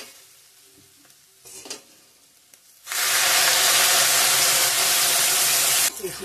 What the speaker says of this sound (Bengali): জল দিয়ে দেবো এখন, গরম জল।